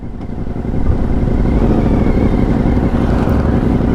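Honda VFR motorcycle ridden on the road in Ohio, a loud continuous engine drone with rushing wind that swells slightly in the first second and then holds steady.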